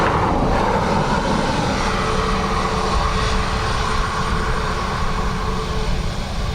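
A jet airliner landing at Dublin Airport on a windy day makes a loud, continuous engine roar with a deep rumble that holds steady throughout, without speech.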